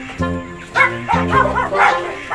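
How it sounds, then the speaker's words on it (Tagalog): A dog barks repeatedly in loud, close, yipping bursts with a whiny, high-pitched tone. "May aso, Jing."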